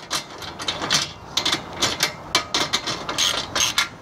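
A ratchet snugs down bolts and nuts while a Kreg table is assembled for a CNC router, giving irregular bursts of quick clicking, moderately close, with short pauses between strokes and no speech.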